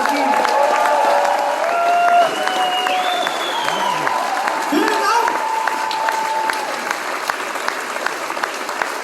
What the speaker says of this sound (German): Dankeschön, Applaus